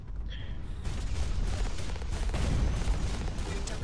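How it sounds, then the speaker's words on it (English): Mech gunfire in a Hawken team deathmatch battle, a dense roar of rapid booming shots and explosions rumbling continuously through the whole stretch. "I decide to do some fancy footwork and some fancy shooting on him."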